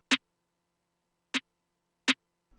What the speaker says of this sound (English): We also added a little snare that comes in as well every once in a while.